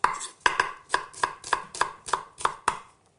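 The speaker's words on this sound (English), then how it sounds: "just chop it up. Nice big chunky pieces of onion." A large onion chopped into chunky pieces on a board, about ten crisp knife strikes in a steady, slightly uneven rhythm, close and clear with no talking.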